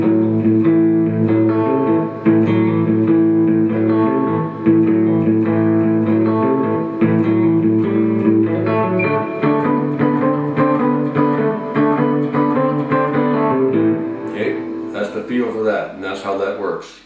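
A distorted electric guitar plays a steady, loud blues shuffle rhythm with repeating low chords, ending in a few higher, busier notes.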